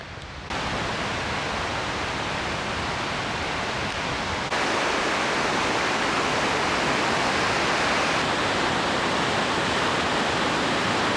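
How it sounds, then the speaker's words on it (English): Powerful torrent of water rushing down a hillside in a desert landscape with ponderosa pines, a loud, steady broadband roar filling the whole stretch without a break, swelling slightly louder midway and heard up close with no talk. "Crazy to see how powerful the water is. It is just thrusting its way down the hill."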